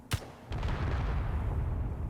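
A warhead detonates in Space Engineers with a sharp crack, then a second heavier blast rolls into a deep, sustained rumble that lingers without fading.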